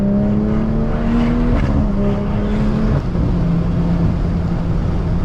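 BMW 340i with a tuned 550 hp B58 engine, exhaust humming steadily while driving, its pitch stepping between gear changes with a brief dip, clean and continuous without burbles.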